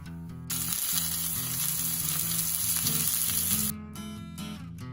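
Ribeye steaks searing in a dry, well-seasoned cast iron skillet, a loud, close, continuous sizzle that flares up as the meat hits the pan and eases off near the end, over a steady musical tone.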